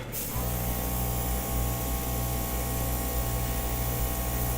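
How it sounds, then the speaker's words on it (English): Airbrush hissing steadily as it sprays paint onto a square canvas on a turntable, a continuous close, even airflow that starts abruptly and holds without a break, with a faint low hum beneath. "So every blow you do is the exact same way till you get comfortable with the airbrush."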